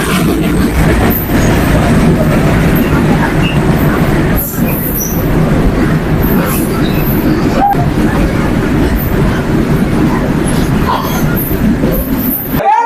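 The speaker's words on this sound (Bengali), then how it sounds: "তো এর মধ্যে যে আমার পিছনে ট্রেন এসে পড়ছে" A train rumbles past close behind, a loud, steady roar of wheels and carriages with faint clattering and a brief squeal, filling the whole stretch before cutting off abruptly at the end.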